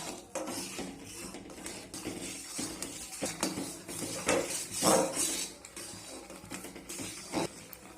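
Raw mango pulp thickens in a pan for mango leather while a utensil stirs it, giving soft, irregular metallic clinks and scrapes against the pan, fairly quiet and close.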